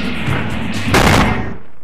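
A loud explosion in the video game Spyro: Year of the Dragon, a broad burst that swells over a steady background of game music and then fades out.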